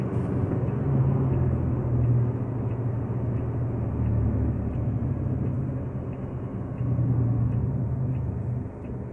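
A semi truck drives through heavy snow on a highway between Ankara and Konya, with a steady, loud low engine and road rumble heard from inside the cab, continuous and unbroken throughout.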